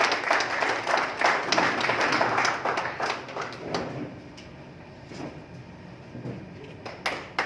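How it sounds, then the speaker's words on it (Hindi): An audience claps in welcome for a speaker at a community service awards evening at an academy of fine arts, a brisk burst of applause that fades to scattered claps and room noise. "भाई जोरदार तालियां से इनका स्वागत करें।"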